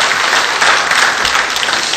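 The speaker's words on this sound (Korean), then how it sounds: "힘차게 박수로 환영해 주시면 감사하겠습니다" Church congregation claps to welcome new members, with vigorous, dense applause that stays loud and even for the whole two seconds.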